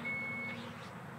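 A 2022 Chrysler Pacifica Hybrid Limited S power liftgate sounds a single steady warning beep for about half a second, quiet and close over a low background hum.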